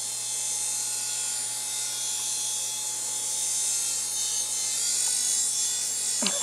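A toy helicopter hovering nearby gives a steady, high-pitched motor whine that holds level throughout, ending in a short sharp knock.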